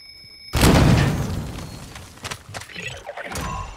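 Gunfire in a tactical shooter video game near a house, opening with a sudden loud blast followed by a decaying rumble and a few sharper scattered shots.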